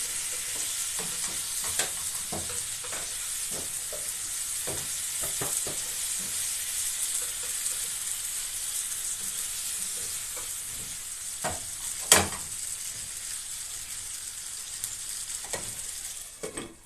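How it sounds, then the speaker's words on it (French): Wheat and chicken gizzards sauté in a pan with a steady, close sizzle and hiss, broken by scattered scrapes and clinks of stirring and one louder knock near the end. "Je laisse mijoter un peu pendant 2-3 minutes"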